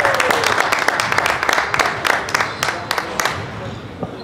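An indoor audience at the opening ceremony of the New Mexico Games 2022 claps in a dense, loud burst of applause that thins into scattered claps and fades out near the end, with some crowd noise underneath.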